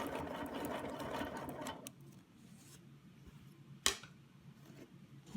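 Sewing machine stitching a Baptist fan quilting design: rapid, close mechanical ticking chatter that stops partway as the needle is left down, followed by quiet handling and a single sharp click.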